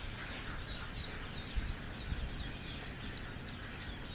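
Ducklings of an egg-laying breed quack and peep in a busy, scattered chorus over a low background rumble, the calls fairly faint.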